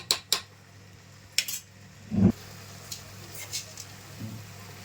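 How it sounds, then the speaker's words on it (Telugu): A lid set on a pan of cucumber and tomato curry, with a few sharp metallic clinks and a short scraping clatter, then quiet kitchen room tone. "ఇప్పుడు మూత పెట్టి మగ్గించుకోవాలండి"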